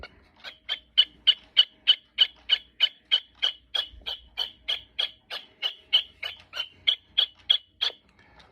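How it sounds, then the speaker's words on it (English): Wilson's snipe call from a Wild Gamebirds of North America bird clock: a long, steady run of about two dozen sharp, evenly spaced chipping notes, close and clear with no voices. "10 o'clock is the Wilson snipe."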